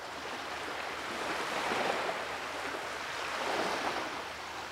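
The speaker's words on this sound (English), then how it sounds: "I'm gonna play an ambience of an ocean with just some waves crashing" Ocean ambience of waves washing in as a soft, continuous surf wash that swells gently twice, moderately quiet and with no voices.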